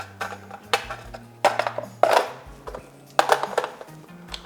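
Onions being chopped with a manual onion chopper, giving sharp close clacks and thumps in short irregular bursts, with a faint background hum and no talking.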